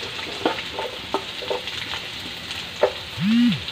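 Carrots and beans being stirred in a frying pan give a low sizzle under scattered scraping clicks of a utensil against the pan, with a short rising-and-falling squeak near the end.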